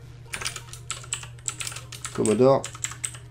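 Keys clatter on a computer keyboard in quick irregular bursts of close clicks, typing text into a Commodore 64 assembler, with someone speaking over the keystrokes.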